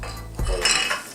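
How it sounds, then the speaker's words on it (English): Tempura batter thinned with soda water is stirred in a bowl, a close clatter of utensil scraping and clinking against the bowl for about a second, no voices. "we're gonna mix it and see how that looks"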